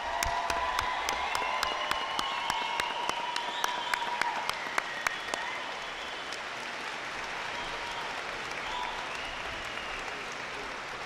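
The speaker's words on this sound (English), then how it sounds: "Let's give everyone a proper round of applause." Audience applause at a high school graduation ceremony, a steady wash of clapping with a few sharp individual claps standing out early, then fading slightly toward the end, with no talk over it.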